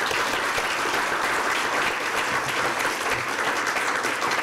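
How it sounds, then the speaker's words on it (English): A conference audience at a wine business research gathering applauds in a dense, steady roar of clapping that holds evenly throughout, with no voices over it. "So let's give a round of applause to them."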